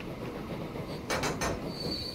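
A train in Transport Fever rolls along with a low rumble, then gives a quick run of bright rattling clacks and a thin squealing tone from the wheels, at moderate loudness.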